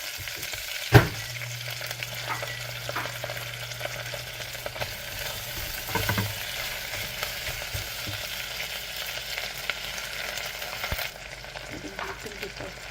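Onion, green chili and ginger garlic paste fry in a pot for spiced bagara rice, a soft continuous sizzle broken by a sharp spoon clank near the start and scraping stirs midway, with no talking.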